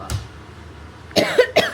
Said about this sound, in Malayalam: അതോടെ ഭയങ്കര ചുമയും ഒരു അസ്വസ്ഥതയൊക്കെയാണ്